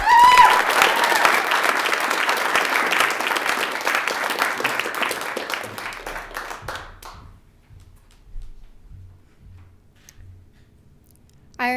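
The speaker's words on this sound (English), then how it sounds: "a warm, rousing round of applause for Kayana Vessel" A large audience at a poetry recitation competition applauds loudly for several seconds, the clapping gradually thinning and fading out, leaving a quiet room with a few faint bumps.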